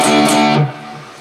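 Distorted electric guitar riff with palm-muted root notes and power chord hits from a hard rock song lesson, a loud dense burst of chugging strums that cuts off abruptly and leaves a quieter sustained ring.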